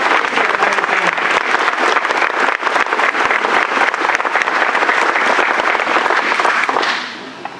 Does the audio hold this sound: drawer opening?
no